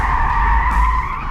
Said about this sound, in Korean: 좌우 중에 한쪽 브레이크만 걸리는 이런 순간적인 ABS 모션이 들어오고 있거든요